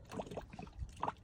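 Coolant bubbling and gurgling in a Mazda Bongo radiator during bleeding, in short, irregular pops, fairly quiet and close, with a few wet glugs.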